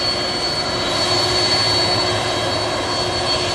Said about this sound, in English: Go on, Siri, you've got a whole plane full of people wanting to go to a party in Ibiza